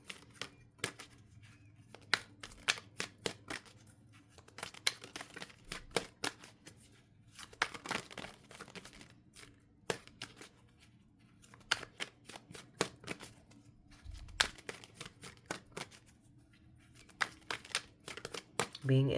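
Tarot cards shuffled and drawn by hand, soft papery riffles and flicks ticking in quick irregular clusters, quiet and close throughout.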